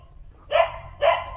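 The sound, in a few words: dogs barking at a temple in Pattaya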